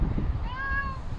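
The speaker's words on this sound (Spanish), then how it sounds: "Qué mimosillos que son los gatos, también." A cat on a village street gives a single clear, rising-then-falling meow, close by and lasting under a second over low background rumble.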